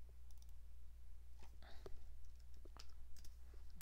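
Quiet keyboard typing at a computer, a few scattered clicks and short bursts of keystrokes over a steady low hum, close but faint, with no speech.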